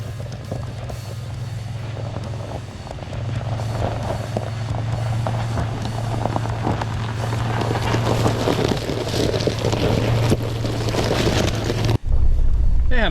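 A third-generation Toyota 4Runner on stock tires grinds over off-road terrain, its engine droning steadily with rising strain, wind buffeting the microphone and gravel and rattles crunching along, before a sudden thump near the end.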